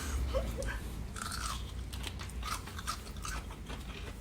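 Close crunchy chewing of boiled Brussels sprouts, with soft repeated bites and mouth sounds over a quiet background and no speech.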